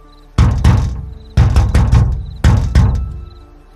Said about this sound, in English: But the knocking didn't stop.